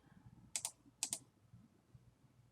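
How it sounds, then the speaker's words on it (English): Two quick pairs of computer keyboard key clicks, faint and close, separated by a short pause over a quiet background. "Click enter again there."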